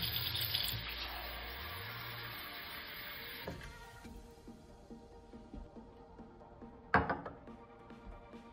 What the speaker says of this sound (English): let's go ahead and fill that with tap water